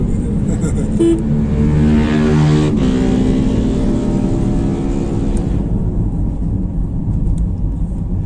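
A Ford EcoSport fitted with a Blackcore throttle unit revs hard under acceleration, a loud, steady engine roar heard from inside the cabin, with occupants talking over it.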